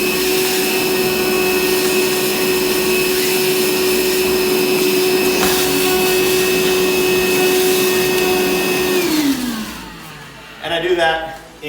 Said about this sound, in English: I just go through, vacuum it all